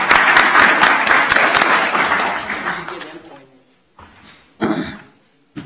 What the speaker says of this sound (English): let's give one last round of applause to all those who were recognized today